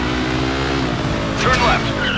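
A car drifting in the video game Stuntman: Ignition, a droning engine joined by a loud screeching tire squeal midway, with a voice speaking over it.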